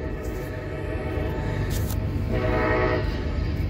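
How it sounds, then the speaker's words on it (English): A train passes close by and sounds its horn in a sustained, loud tone over a steady rolling rumble, heard beside an old football field. "Train's coming through."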